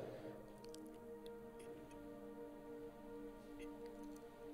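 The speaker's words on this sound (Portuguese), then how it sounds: "Tá caindo uma chuva boa aqui." Rain falling steadily outdoors during an online church celebration, a faint, even patter with scattered soft ticks and drips over a low hum, continuous and fairly distant throughout.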